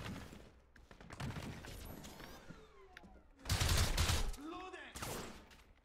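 Gunfire in Crysis Remastered comes in scattered bursts, with a loud close volley near the middle and quieter shots around it, mixed with game sounds and a voice speaking.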